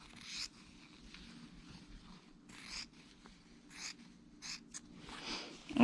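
Fabric scissors trimming the seam allowance on a sewing pattern for a dress, a handful of short crisp snips spaced irregularly over a quiet room hum, close and fairly soft.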